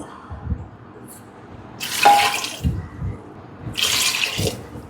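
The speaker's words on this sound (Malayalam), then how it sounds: "ഇനി വെള്ളം, ഇത് വേകാൻ ആവശ്യമായ വെള്ളം. ഇതിപ്പോൾ 1 കപ്പ് ഒഴിച്ചു." Water is poured into a cooking pot while making rajma sambar, heard as two short splashing bursts a couple of seconds apart over faint low background noise, with no talk.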